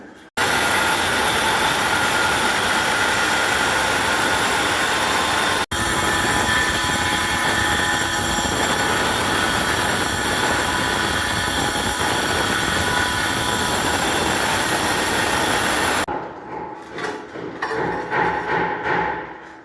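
A machine cuts ceramic tiles with a loud, harsh, continuous grinding whine that runs for about sixteen seconds, then stops abruptly, leaving faint scattered clatter.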